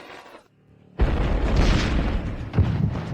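Ancestral tombs blow apart in a massive explosion: after a quiet start, a sudden loud boom erupts into a sustained, roaring rumble of debris, with another heavy thud hitting near the end.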